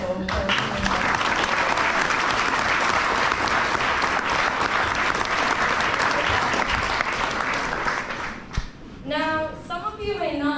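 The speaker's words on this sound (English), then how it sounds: "can we please give a round of applause to everyone who was involved in making this night so" A wedding reception crowd claps loudly and steadily for several seconds, dense and even, then the applause dies down and a voice resumes speaking over fading claps.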